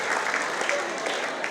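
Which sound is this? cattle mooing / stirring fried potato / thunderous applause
thunderous applause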